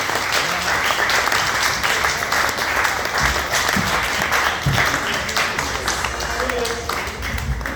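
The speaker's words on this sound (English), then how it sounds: "Let's get a round of applause for Chrissy!" A comedy club audience at the Jam Jar in Swansea applauds a stand-up comedian: steady, dense clapping from a packed room that continues throughout, with voices faintly audible underneath.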